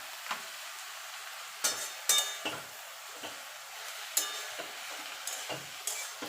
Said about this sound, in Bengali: শাকটাকে আমি ভাজা ভাজা করে নেব।